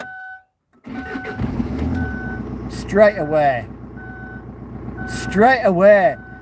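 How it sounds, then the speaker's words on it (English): A car engine cranks and catches, then settles into a steady idle with a repeating electronic warning beep over it, while a person talks briefly. "So I'm gonna try and give the car one quick start."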